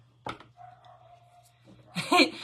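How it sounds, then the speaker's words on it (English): Dogs bark at home in a few sharp yaps, a single bark early on and a louder burst at the end over a faint hum. "Let them bark because she wears her headset."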